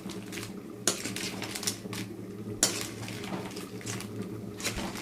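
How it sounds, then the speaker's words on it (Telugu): A spoon scrapes and knocks in a metal pan while crabs are stirred for a crab fry, with sharp clanks standing out over a low, steady background hum. "దీంట్లో పీతలన్నీ తిప్పుకున్నాం."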